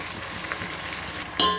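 Masala fries in a pan for egg dum biryani as tomatoes and salt are stirred in. A constant close sizzle is cut near the end by a short, sharp clatter.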